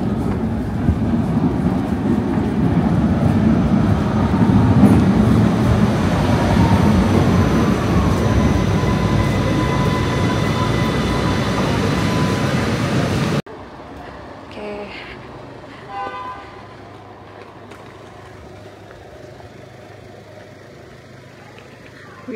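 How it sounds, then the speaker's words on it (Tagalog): Train pulling into a Budapest station, a loud broadband rumble and screech of rolling stock for about thirteen seconds, then cutting to a quieter scene with faint background sounds. "Train is here."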